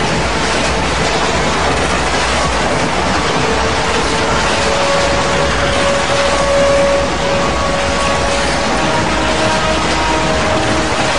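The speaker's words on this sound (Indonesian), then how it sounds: "Mereka menemukan bahwa getaran bumi terdengar seperti suara-suara hewan mengeram atau suara deru mesin yang sangat kencang." Recorded earth vibrations make a loud, continuous rumble like a roaring engine, dense and steady throughout, with a faint tonal hum rising through the middle.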